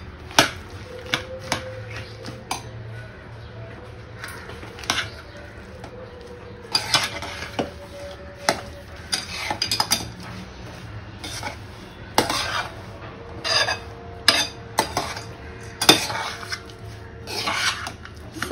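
Jaggery, roasted sesame, peanuts and daliya stirred together in a pan with the gas off, giving repeated scraping and clinking of a spoon against metal in an irregular rhythm, close and moderately loud.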